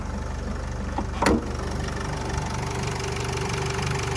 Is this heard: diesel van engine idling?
yes